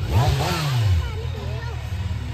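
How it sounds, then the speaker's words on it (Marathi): A new motorbike engine revs up sharply in a short rising burst, then settles to a lower rumble while people talk nearby. "Bhavin गायकरची new bike"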